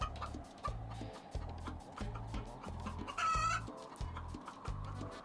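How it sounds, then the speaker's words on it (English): Repeated chicken clucking in a video game, a steady rhythmic run of loud, close clucks with one brief sharper call midway, alone with no talk. "Chicken is too loud."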